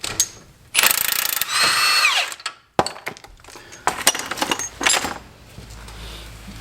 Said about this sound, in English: So what you need to get the nut off is you need a long socket 18mm.